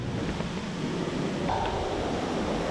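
Broad rushing water from the Colossus waterfall in Vietnam roars steadily as a dense, unbroken wash, with some wind buffeting the microphone and no voices.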